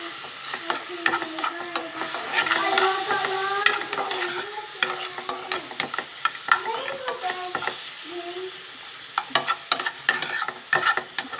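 Chicken frying in a pan for green chicken tikka macaroni, with steady sizzling and frequent sharp scrapes and clinks of a spoon stirring, close and clear.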